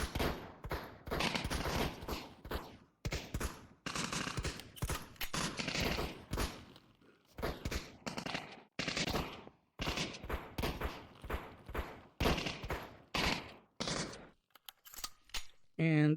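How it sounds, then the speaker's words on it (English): Enemy gunfire in the VR shooter Brutalistick comes as loud, dense bursts of rapid shots that keep going through the clip, broken by short gaps, with some thuds mixed in. "there's like somebody shooting from there and it's like going through the windows and stuff."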